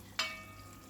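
Rice water poured over layered jackfruit biryani in a pot gives a single brief sizzling splash that fades quickly into quiet kitchen background, with no talking.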